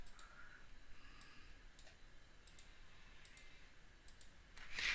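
Faint, sparse computer mouse clicks tick at irregular intervals in a quiet room, several small sharp taps with nothing else around them.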